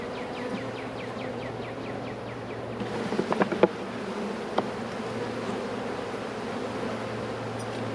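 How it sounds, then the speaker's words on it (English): Honey bees festooning on a hive frame hum in a dense, steady drone, with individual bees buzzing close by and a few brief handling knocks midway, no talking. "you see all these bees festooning?"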